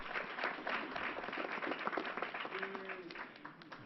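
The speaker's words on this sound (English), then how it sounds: "Let's give them a round of applause." Applause from the audience at a New York governor's news conference, a steady patter of clapping held at moderate loudness for about four seconds, ending with no speech over it.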